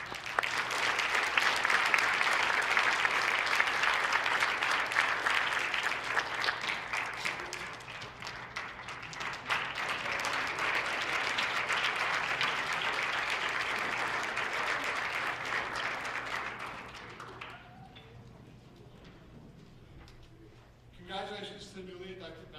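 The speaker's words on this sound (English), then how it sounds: "if we could all give a round of applause to Mr. Mallon" Sustained audience applause at a high school National Honor Society induction ceremony, loud and dense for about seventeen seconds before fading out, followed by a brief burst of speech near the end.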